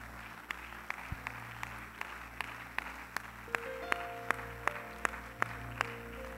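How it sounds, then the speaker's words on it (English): A church congregation gives a hand clap of praise at the end of a prayer, sharp individual claps in a loose, sparse rhythm over a quiet room with a low hum, fairly faint and distant. "Let's give the Lord a hand clap of praise"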